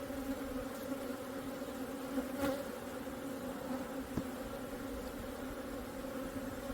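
Korean native honeybees buzz steadily inside their hive, a dense, continuous droning hum close up with a few faint clicks and no voices.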